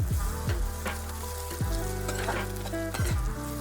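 Onion and turmeric tempering sizzle and fry steadily in a pan for a drumstick tomato curry, with a few sharp stirring scrapes and clicks at intervals.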